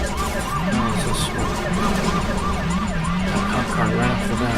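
Wailing police car siren in The Italian Job video game, rising and falling in repeated sweeps over a car engine and game noise, loud and continuous.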